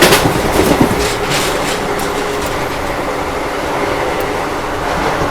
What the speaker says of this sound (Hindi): अभी ये देखो दतिया रेलवे स्टेशन स्किप कर रही है अपनी गीता जयंती एक्सप्रेस।